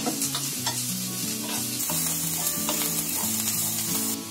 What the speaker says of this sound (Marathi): पण ते पहिलं मी लसूण टाकते, लसूण चांगली फ्राय करून घ्यायची।